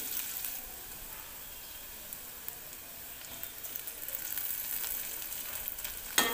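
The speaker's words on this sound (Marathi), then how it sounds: "कांदा पण चांगला परतून घ्यायचा." Onion sautéing in a pan with curry leaves and garlic, a steady close sizzle and crackle of frying running unbroken for several seconds with no talk.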